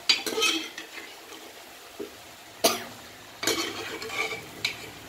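A spoon scrapes and clatters in a pot as chickpeas are stirred into sautéed masala, giving intermittent metallic scraping bursts over a faint sizzle.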